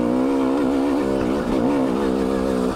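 A 2019 KTM 300 TPI dirt bike engine revs steadily and loudly up close after a shift into second gear, its buzzing pitch dipping briefly and climbing again at lower RPMs.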